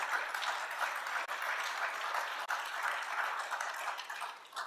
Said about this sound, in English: So I just wanted to give everyone a round of applause just for this one in particular